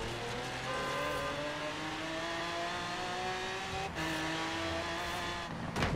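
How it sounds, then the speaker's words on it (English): A car in the racing game Forza Horizon 3 accelerates hard, its engine tone climbing steadily through the gears with a brief shift break, loud and continuous with a tire squeal near the end. "Car gets up and goes"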